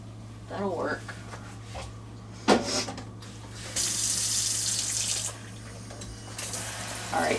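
Water from a kitchen tap runs into a sink in bursts as items are washed, with clattering and a steady hum beneath, while people talk in between.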